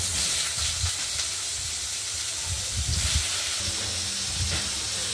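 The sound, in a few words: oil heating and sizzling in a wok for frying ridge gourd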